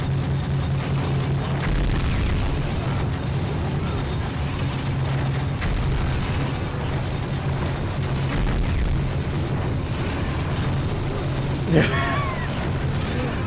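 Continuous heavy gunfire and explosions in the action game Gungrave, with infinite ammo shattering pillars, TVs and lights, forming a dense, booming barrage under a voice-over.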